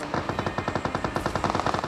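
Rapid automatic gunfire rattles through a fight in the mobile battle royale game PUBG Mobile, a loud, continuous burst of evenly spaced shots lasting the whole moment, with no voices.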